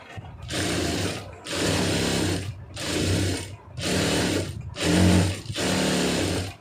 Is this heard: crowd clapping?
no